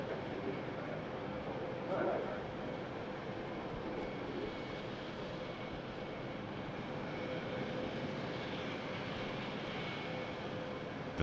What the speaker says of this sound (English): The 350 is in position for takeoff as the A380 makes its approach.